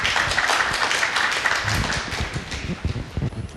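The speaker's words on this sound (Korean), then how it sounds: "여러분 박수 한번 부탁드릴게요" Audience applause at an indoor Korean book talk event welcoming a literary critic guest, a steady wash of many hands clapping throughout, fairly loud and continuous.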